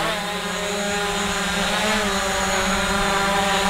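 A Hubsan Zino drone in flight after a firmware update, its steady high-pitched motor and propeller whine holding level throughout with a strong tonal drone and no voices.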